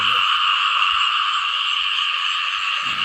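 A dense chorus of frogs calls across flooded rice fields after heavy rain, a loud, unbroken, buzzing croak layered from many animals at once.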